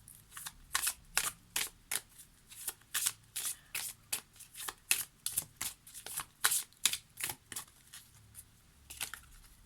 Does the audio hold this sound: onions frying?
no